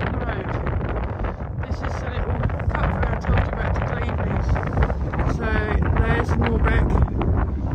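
Strong wind at a seaside park Easter fair buffets the microphone with a steady low rumble throughout, while a voice talks over it now and then.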